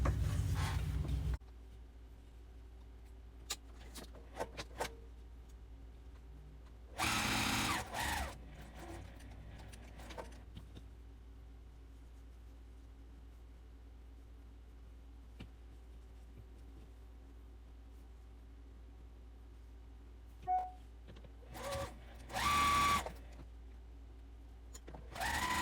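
A sewing machine stitches pieces of a bow tie quilt made from a charm pack, its motor whirring in two short runs against a quiet, steady background hum.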